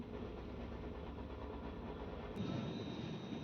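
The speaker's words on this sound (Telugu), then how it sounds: "గుండ్లవల్లేరు స్టేషన్కి మన ట్రైన్ చేరుకుంది" The Machilipatnam–Bidar Superfast Express passenger train rumbles steadily with a low, continuous roar, a brief high squeal cutting in near the end as it reaches Gudlavalleru station.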